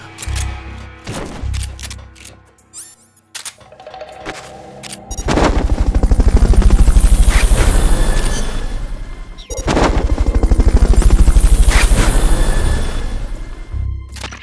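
A Fulton recovery helicopter in Metal Gear Solid: Peace Walker, loud rotor and engine roar swelling in two long sustained bursts after a quieter stretch of scattered game sounds, with a sharp break between them.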